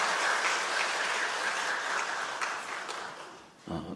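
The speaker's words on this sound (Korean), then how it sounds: "다 같이 한번 박수 한번 할게요" A church congregation claps together after a hymn, a dense, steady wash of applause that holds for several seconds before thinning out near the end.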